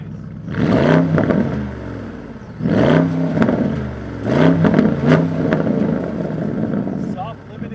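A 2021 Porsche Cayenne GTS V8 engine blips up to its soft limiter three times, each rev rising and dropping back, close and fairly loud, with someone talking briefly between revs.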